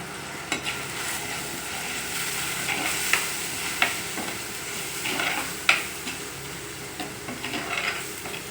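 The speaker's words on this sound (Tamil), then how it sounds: "இது எண்ணெயிலே கொஞ்சம் நேரம் வதங்கட்டும்." Mushroom masala sizzles steadily in hot oil, with occasional clicks and scrapes of a spoon stirring in the pan.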